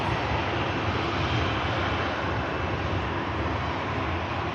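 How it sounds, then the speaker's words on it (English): A Cathay Pacific airliner taxiing at Manchester Airport, heard as a steady, broad jet-engine roar that stays constant throughout, with a faint wind rush mixed in. "Cathay Pacific is on the taxi."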